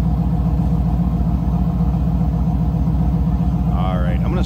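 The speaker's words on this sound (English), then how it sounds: "Cat back exhaust system." A 1995 Pontiac Firebird Formula with a cat-back exhaust idles with a loud, steady low rumble, close and unbroken, with a faint higher warble near the end.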